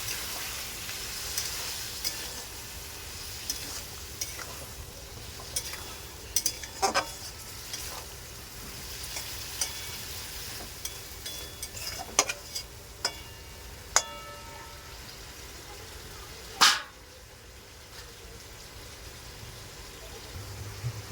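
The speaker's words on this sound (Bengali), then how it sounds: "দিয়ে দেবো ঘুগনি, মটর, নেড়ে নেব।" Ghugni of dried peas being stirred and fried in a pan, giving a steady soft sizzle broken by sharp spoon clicks and scrapes against the metal, with no talking.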